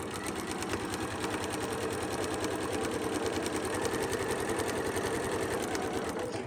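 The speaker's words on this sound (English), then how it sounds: "using a 1/4 inch seam allowance, I am going to sew this block" A sewing machine stitches a log cabin quilt block with a quarter-inch seam. It makes a close, steady, rapid mechanical whir with a fine rhythmic needle patter, running without pause.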